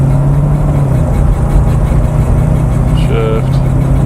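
Mercedes 450SL engine pulling hard at full throttle during a first drive after a fuel system install, a loud steady drone with road noise, a voice talking over it throughout.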